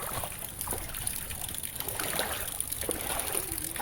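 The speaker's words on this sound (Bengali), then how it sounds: "এইবার জল বেশি শুরু হচ্ছে" Rainwater flowing and trickling through a flooded yard and garden: a steady, close wash of running water with small splashes and dribbles throughout, under constant broadband hiss.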